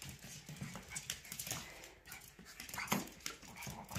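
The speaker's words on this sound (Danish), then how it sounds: "Ja, sådan nogle dejlige hunde," Dogs playing together indoors produce soft, scattered scuffles, pattering paws and faint snuffling, quiet and busy throughout, with no voices.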